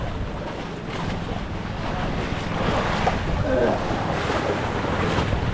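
Rough sea waves rock a fishing boat, with a broad rushing wash of water and wind buffeting close by, swelling and easing over a few seconds.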